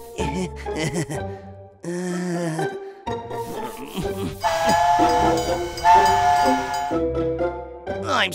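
Cartoon train in a children's nursery-rhyme cartoon, with whistle-like tones and a rolling rail rhythm carried by bright music and sung or spoken voices, fairly loud throughout.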